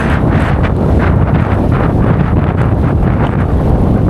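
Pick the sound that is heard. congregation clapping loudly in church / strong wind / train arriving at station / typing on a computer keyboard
strong wind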